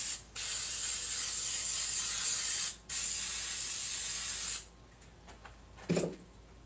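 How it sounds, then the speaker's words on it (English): An aerosol spray can hisses in two long bursts across the back of an egg box craft piece, with a short pause between bursts, followed by a few faint rattles and a brief clunk. "Spray the back."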